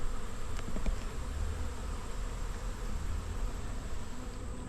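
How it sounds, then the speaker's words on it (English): Honey bees buzzing steadily around a beehive just after being given feed, a dense, continuous insect drone heard close up with no speech throughout. "the bees are pretty darn happy with the feed they just received"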